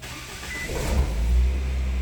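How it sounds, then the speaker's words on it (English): A 2009 Nissan Cube engine cranks and catches, settling into a steady low idle rumble that builds after a brief whirring start, close and alone with no talk. "So let me start the car now"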